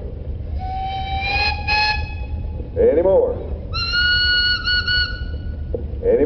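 Steam whistle on a single-cylinder Brownell upright boiler engine at a threshers' parade, sounding in several sustained blasts close by, with talk and crowd voices in between.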